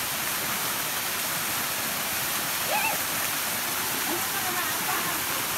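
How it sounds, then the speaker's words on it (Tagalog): Engkanto Falls in Camarines Sur pours with a constant, full roar of falling water. Faint voices are briefly audible beneath it. "So may merong falls."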